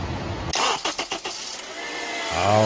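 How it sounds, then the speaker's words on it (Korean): A car engine with a newly replaced drive belt set cranks in several quick rhythmic pulses, catches, and settles into a smooth idle, heard up close. "작동 한번 확인해 볼까요? 시동 고!"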